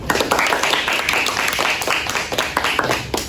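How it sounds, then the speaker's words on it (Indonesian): Audience clapping for a contestant at a school library-management roleplay competition, a dense, steady patter of many hands filling the whole moment at moderate loudness with no talk over it. "Beri tepuk tangan dulu."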